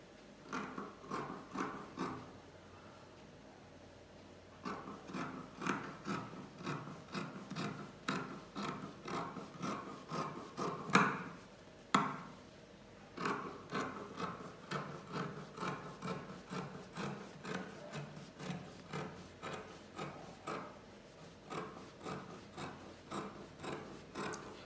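Scissors cutting fabric for a woman's shirt, a close series of rhythmic crisp snips and rubbing strokes repeating steadily with a brief pause near the start, no talking.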